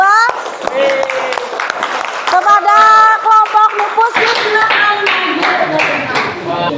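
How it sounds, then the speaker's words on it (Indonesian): A classroom of students claps for a group presentation, first with a voice speaking over scattered claps, then swelling into fuller, louder applause near the end. "untuk presentasi kelompok yang pertama kita beri tepuk tangan kepada kelompok Panjang Sungai 2."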